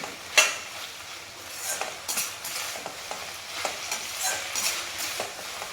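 Pirandai (adamant creeper) sautéed with onion and tomato in a pan for chutney, with a steady soft sizzle broken by repeated scraping stirs and an occasional clink of the spoon; nobody speaks.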